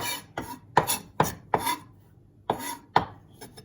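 A kitchen knife chops vegetables on a board for spring rolls, the blade pivoting as it goes: about eight crisp, close knocks in an uneven rhythm with short scraping tails and quiet gaps between.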